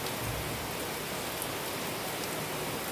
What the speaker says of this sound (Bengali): অবশেষে বৃষ্টিটা হচ্ছে